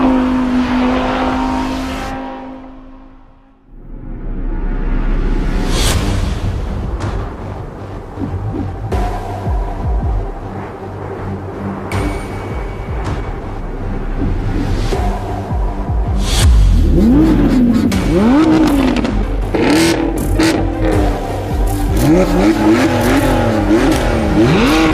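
Drag race cars, one with a naturally aspirated V10, rev loudly and accelerate hard, engines climbing through rising gear pulls with sharp upshifts, close and dominant throughout.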